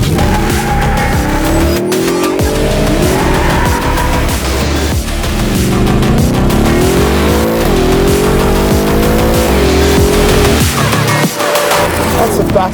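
A 2023 Ford Raptor R pickup accelerating hard to 60 mph, its engine roaring loud and close as revs climb and drop through gear shifts, with tire noise.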